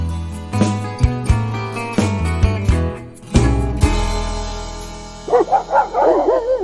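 Hound dogs bark in a run of loud, close, deep barks with ringing tails, several overlapping, then a pause before a burst of higher yelping and whining calls.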